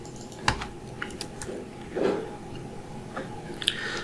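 Typing on a computer keyboard while writing HTML and CSS code, a run of separate key clicks at an uneven pace, close and fairly quiet, with no talking.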